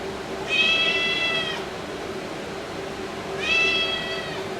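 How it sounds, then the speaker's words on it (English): A cat meows twice indoors, each call drawn out for about a second with a clear pause between, fairly close over a steady background hum. "Oh, there's the cat."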